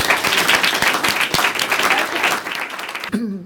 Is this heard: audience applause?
yes